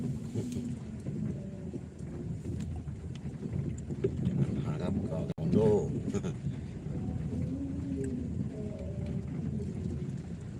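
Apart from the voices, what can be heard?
rain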